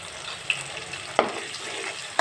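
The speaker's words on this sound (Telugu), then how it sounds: "ఈ కొత్తిమీర పచ్చివాసన పోయేంత వరకు వేయించుకోండి" Coriander paste frying in a pan, a steady close sizzle broken by a few sharp spatula scrapes and stirring clicks.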